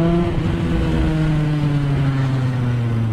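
A Kawasaki Ninja ZX10 with a straight exhaust holds a loud, steady engine tone, close by and continuous, with no voices over it.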